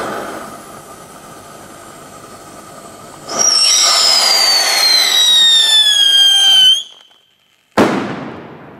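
A Scream 5S firecracker lets out a loud, piercing whistle that slowly falls in pitch for about three seconds. After a brief silence, a sharp, close blast follows and then rings away.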